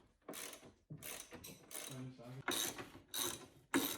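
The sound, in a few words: ratchet removing bolts from Ford Focus ST strut brace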